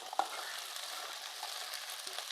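Chopped spring onion stalks dropped into a hot pan for an egg thoran, a quiet steady sizzle and crackle with a small clatter at the start.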